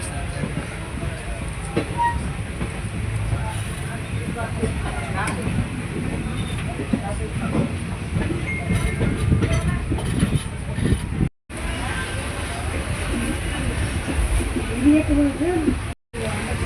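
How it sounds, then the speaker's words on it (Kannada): Steady rumble and rattle of a train underway, continuous and loud throughout, with brief dropouts near the end. "ಈಗ ಟ್ರೈನ್ ಹೊಂಟಿದೆ"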